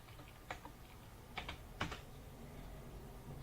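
Faint, sparse keystrokes on a computer keyboard, a few scattered taps with a quick double tap and a final sharper press, heard alone against quiet room tone.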